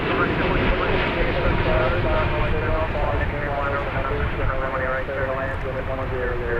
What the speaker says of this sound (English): another heavy jet. This one arriving from Haneda Airport in Tokyo.